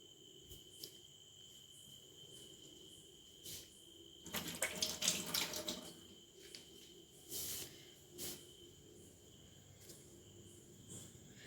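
A hand stirs ground black gram fertilizer solution with leftover cooked rice in a container of water, making faint sloshing and splashing in a few short bursts over a steady background of chirping crickets.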